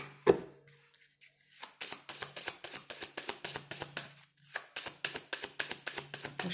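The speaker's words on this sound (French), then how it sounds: "Bon, donc on va aller tirer une carte supplémentaire de celui-ci" Cards drawn and shuffled from an oracle deck during a reading, a rapid run of crisp papery slaps and flicks, close and fairly soft, with a brief pause partway before the riffling resumes.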